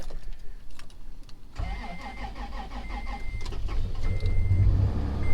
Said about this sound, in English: let's get this thing fired up. Get her warmed up.